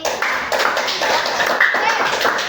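A classroom of children clap for a pupil, a dense, steady patter of many hands filling the whole stretch at fairly close range, with no gaps.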